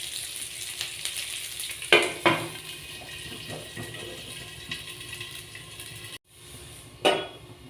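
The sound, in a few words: jackfruit seeds frying in a pan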